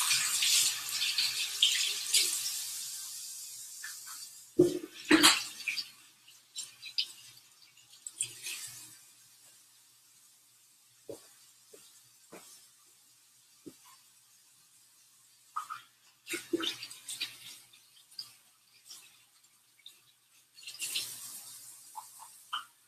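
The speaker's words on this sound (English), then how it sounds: "I'm gonna rinse out peppers." Water from a kitchen tap runs in bursts while peppers are rinsed at the sink, with splashing and trickling near at hand, loudest at the start and returning in short spurts between quiet gaps.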